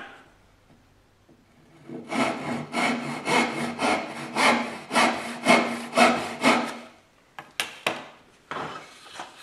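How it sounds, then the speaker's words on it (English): A hand saw cuts wood for dovetails with rapid, rhythmic rasping strokes up close, a steady run of push-and-pull scrapes followed by a pause and then a few shorter, sharper strokes. "you're sawing to the vertical line."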